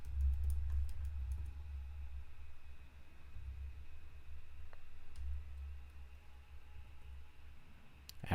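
Soft, rapid keystrokes on a computer keyboard patter steadily while Java code is written in IntelliJ IDEA, with occasional sharper clicks over a constant low hum.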